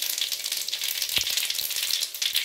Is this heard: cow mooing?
no